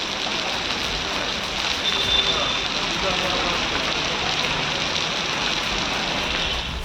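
Light early-morning drizzle falling across Bengaluru, heard as a steady, even hiss of fine rain that stays at one level throughout.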